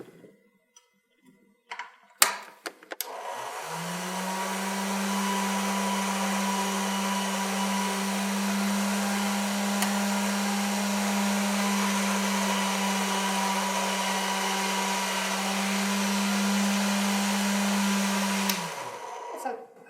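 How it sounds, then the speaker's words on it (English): A pasta machine thins and blends polymer clay for a leaf cane with a steady, droning motor hum that runs for about sixteen seconds and stops abruptly, with a few clicks and bumps before it starts. "I'm now going to thin this on the pasta machine"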